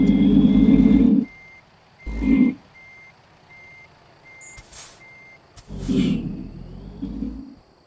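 A truck reverses a trailer into a parking spot in American Truck Simulator, with a steady run of high, evenly spaced reversing beeps over a low engine rumble that rises and falls, plus a brief hiss of air.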